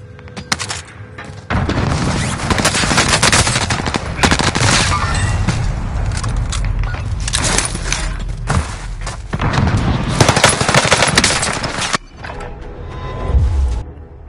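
Sustained bursts of automatic gunfire and explosions in a combat video game, loud and dense for most of the stretch, with brief lulls near the end and mechanical clatter throughout.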